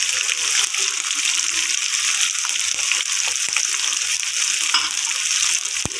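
Fresh peas and cauliflower fry in a pan with oil, giving a steady, close, even sizzle and hiss with faint stirring clicks and no talk.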